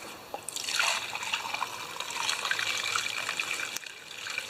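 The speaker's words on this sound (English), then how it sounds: "we'll pour it into one of these cups here" Old gasoline drained from a Craftsman EZ Walk lawn mower and poured into a cup, a close, steady trickle and splash of liquid lasting several seconds.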